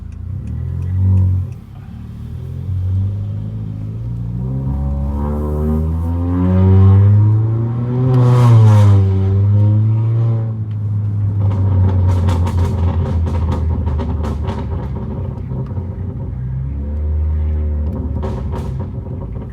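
A 2019 Honda Accord Sport 1.5T with a tuned loud exhaust rumbles and revs up close on a quiet street, engine pitch rising and falling through gear changes over a steady low drone, with no talking.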